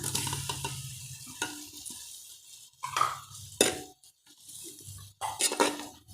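Tomatoes, curry leaves and vegetables sautéing in a pan for a Tamil vegetable gravy, with a steady low sizzle broken by several sharp spoon scrapes and stirring clinks, fairly close and no talking.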